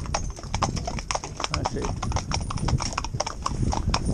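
Horse hooves clip-clopping steadily in a repeated walking rhythm during ground training with a handler, close and clear, with someone talking over the steps.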